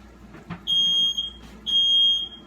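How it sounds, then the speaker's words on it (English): Two long, piercing electronic beeps from a smoke alarm, each lasting about half a second, separated by a brief pause, over quiet room noise. "Oh Lord, we got alarms going off"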